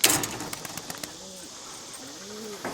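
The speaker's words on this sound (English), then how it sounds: "on the count of 3, I'm going to launch this bird." Pigeon released from a remote bird launcher outdoors: a few sharp snaps and flaps of wings followed by soft cooing calls, fairly close.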